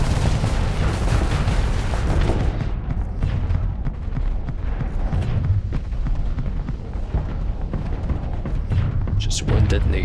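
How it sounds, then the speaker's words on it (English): A missile detonation in the space combat game Starsector, heard as a dense, loud rumble of booms and blasts that rolls on without pause through the whole stretch. "Just one detonation."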